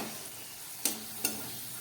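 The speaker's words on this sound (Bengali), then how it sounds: "খুব ভালো করে আমি মশলাটা ভেজে নিলাম।" Ground cumin, coriander and chilli powder frying in a pan give off a soft, quiet sizzle, broken by two sharp taps of a utensil against the pan.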